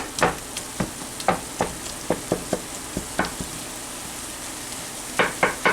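Ground beef breaking up as it fries in a pan for homemade cheeseburger helper: steady sizzle with repeated sharp scraping strokes of a utensil against the pan, close and loud, no talk.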